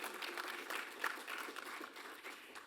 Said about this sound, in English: you can clap for the speakers